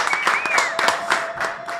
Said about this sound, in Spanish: Te vamos a despedir con un aplauso.